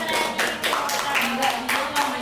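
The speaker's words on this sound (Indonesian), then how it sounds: "Tepuk tangan dulu untuk kita yang sudah" A classroom of students clapping for their classmates, a fairly close burst of handclaps in quick irregular rhythm with a voice speaking over it.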